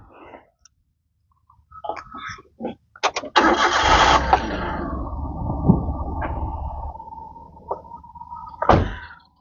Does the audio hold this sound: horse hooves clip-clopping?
no